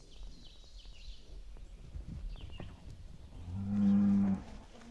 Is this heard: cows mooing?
yes